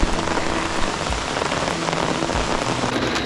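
Sudden heavy downpour in the woods, dense steady rain hammering leaves and ground nearby, loud and continuous with no voices.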